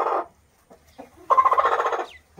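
A hen clucks in a quick, rhythmic series of squawks, close by, after a brief earlier cackle and a short quiet pause.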